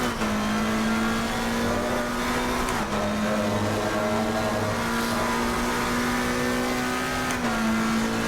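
A car on a race track holds a steady loud engine drone that drops in pitch as it shifts down toward first gear, with small pitch steps along the way.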